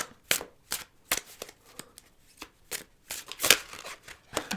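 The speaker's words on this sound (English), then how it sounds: "It's weird to go from a deck that's hard to shuffle to a deck that's easy." A tarot deck being shuffled in the hands, a run of quick crisp riffles and slaps that come in uneven bursts, loud and close, with no talking.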